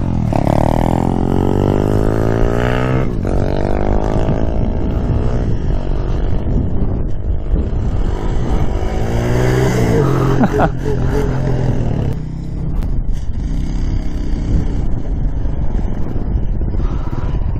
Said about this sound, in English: he's gonna hit some wheelies on his four-wheeler here